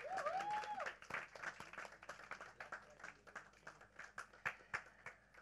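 Faint clapping from a crowd at a radio station's success party for a Mahabharat show, soft and scattered, with a brief sweeping tone near the start and some talk mixed in.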